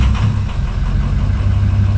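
A Ford 6.0 Powerstroke diesel engine with new injectors idles close by, giving a steady, even low rumble with no voices over it.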